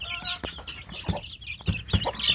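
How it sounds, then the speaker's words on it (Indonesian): Village chicken chicks cluck and peep in a busy cluster while drinking, with several soft, close clucks in an irregular rhythm over constant high-pitched cheeping. "anak ayam kampung saya ini kehausan, ini rame-rame untuk minum ini"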